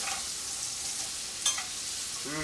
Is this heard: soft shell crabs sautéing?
yes